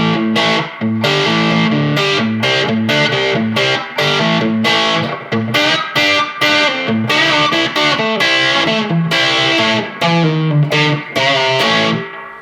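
An electric guitar runs through an EVH 5150 Iconic Series 15W 1x10 tube combo, with the guitar volume rolled back to 2 for a broken-up overdriven tone and a touch of reverb, playing loud rhythmic chords and stabs with brief gaps.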